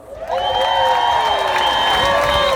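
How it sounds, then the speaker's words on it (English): A large audience at an International Women's Day event in Melbourne breaks into loud, sustained applause, thick with crowd cheering and a few high, drawn-out whoops over the clapping. "Give yourselves a round of applause."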